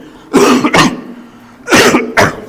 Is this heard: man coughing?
yes